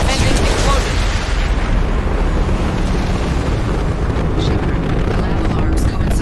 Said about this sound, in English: Impending explosion.